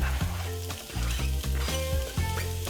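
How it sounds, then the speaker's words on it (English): Chopped Vidalia onion sautés in avocado oil in a hot pot, a steady close sizzle broken by a few scraping stirs, with no voices. "we're gonna saute that for a few minutes and let it get soft"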